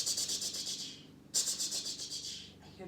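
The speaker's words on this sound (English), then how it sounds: "I hear the rattle of the rattlesnake's tail." A rattlesnake rattles its tail in a desert habitat, shaking out a close, buzzing rattle in rapid pulses. It breaks off briefly and then resumes.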